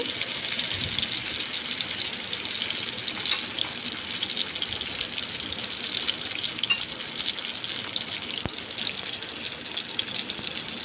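Magur catfish frying in hot oil, a steady dense hiss and crackle that runs unbroken and fairly loud throughout, with no voices.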